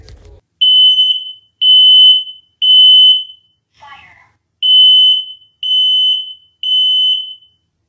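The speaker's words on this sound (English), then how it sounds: "a smoke alarm going off like the one we just heard" A household smoke alarm shrills in loud, steady high-pitched beeps, about seven long tones in an even rhythm, with a brief faint rustle between two of them.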